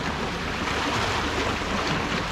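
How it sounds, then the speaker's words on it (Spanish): Rough river water churns and rushes in a steady, loud, unbroken roar during a carp fishing outing, with no voices over it. "Cómo se enoja el río."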